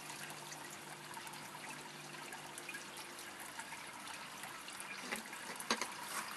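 A garden water feature with its pump running gives off a steady, faint trickle and splash of water, continuous and close, with a couple of brief sharper splashes near the end and no talking.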